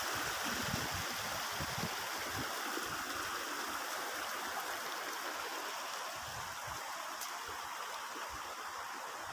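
A river stream flows steadily with a continuous broadband rush and trickle of water, close and constant throughout, with no voices.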